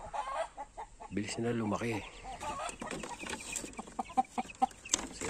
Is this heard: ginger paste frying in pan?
no